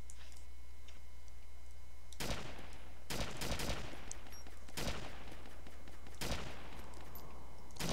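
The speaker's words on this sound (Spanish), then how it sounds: "Me disparan, vale, me disparan." Bursts of gunfire in Arma 2 Wasteland, a military shooter video game, crack out in four loud volleys spaced a second or two apart. A steady low hum runs underneath, and no one speaks.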